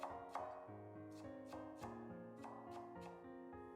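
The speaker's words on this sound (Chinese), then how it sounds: "先在洋葱的一头竖着切几刀，再横着切几刀，这样就切好了" A knife chops half an onion on a cutting board, quick crisp strikes in a steady run of about eight cuts under soft background music, close but quiet.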